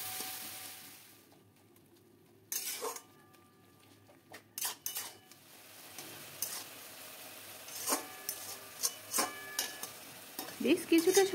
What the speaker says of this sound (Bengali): এবারে ভালো করে মশলার সঙ্গে আমি পাতাগুলিকে মিশিয়ে নেব, অনেকটা সময় ধরে নেড়ে চেড়ে নিয়ে।